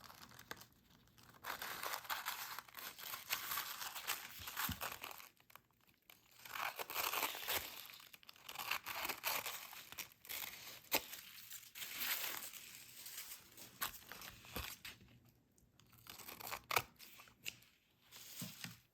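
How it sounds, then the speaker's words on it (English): A paper tag being cut around with scissors: repeated crinkly snipping and rustling comes in bursts separated by short pauses, soft and close. "And then again, we will cut around our tag."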